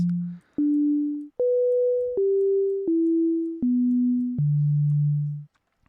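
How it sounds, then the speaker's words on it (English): A software synth plays single pure sine tones, one harmonic with effects off, in a stepped sequence of seven sustained notes that rise then fall in pitch, each clean and steady, alone. "all we get is the first harmonic of a sine wave at whatever frequency we send it"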